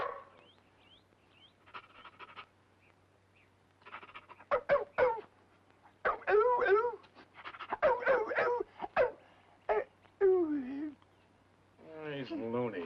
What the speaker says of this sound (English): Well, you just gave a little piece to the dog.